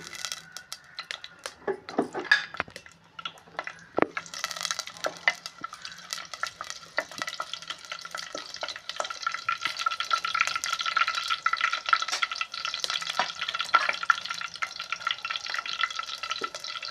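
Three slit green chillies fry in hot oil in a pan, with a steady sizzle under repeated scraping and stirring clinks from a utensil, close and moderately loud.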